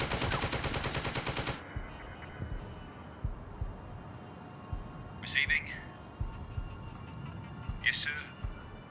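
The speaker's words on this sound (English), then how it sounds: "Let's get him suppressed with the Bren carrier as well." A Bren carrier's machine gun lays down suppressing fire in the World War II turn-based strategy game The Troop. One dense, rapid burst of shots opens, then the battlefield falls quieter, with faint thuds and distant tones.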